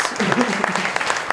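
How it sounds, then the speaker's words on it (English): An audience applauds after a startup pitch session in Lisbon, giving a short burst of brisk, crowded clapping with voices mingled underneath. "A round of applause for Deliverin."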